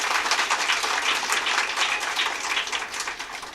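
A women's day felicitation and prize ceremony audience breaks into loud, sustained applause, dense clapping filling the whole stretch at an even level before easing slightly at the end, with no talk over it.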